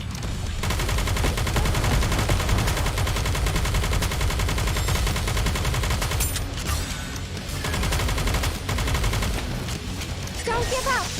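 Dense automatic gunfire in the Nikke shooter game, rapid continuous bursts rattling loudly and close for the whole stretch, with brief dips and voice callouts mixed in over the shooting.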